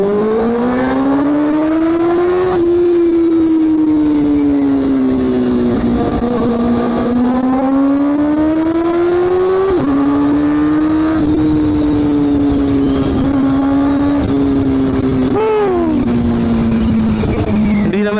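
A loud Kawasaki ZX-4RR motorcycle engine runs close by for a long stretch, its revs rising and falling in slow swells with a few quick blips.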